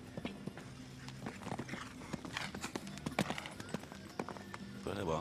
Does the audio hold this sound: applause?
no